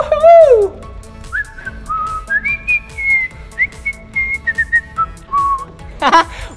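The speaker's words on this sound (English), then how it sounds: "Did you hear that? My whistle? You heard my whistle?" A person whistles a wandering melody of sustained, sliding notes at an indoor playground, fairly close and clear, with brief gaps between phrases and a short noisy burst near the end.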